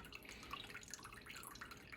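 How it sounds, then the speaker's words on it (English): Water runs out of an Aquatonic AQ 500 water ionizer during filter cleaning, a faint, steady trickle with small bubbly splashes and drips. "The water is coming out."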